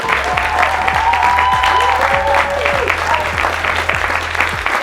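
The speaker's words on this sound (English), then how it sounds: "Big round of applause." Loud, continuous applause from an audience at a launch event, a dense steady patter of clapping with a low rhythmic music beat and some voices beneath it.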